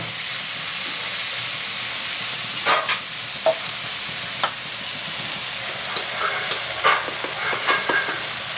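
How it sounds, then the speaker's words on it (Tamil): Onions and tomatoes fry in a pan for spinach curry, giving a steady close hiss of sizzling with scattered pops and the odd scrape of a spoon. No one speaks. "இப்போ இந்த வெங்காயமும் தக்காளியும் நல்லா குழஞ்சி வெந்து வரணும்."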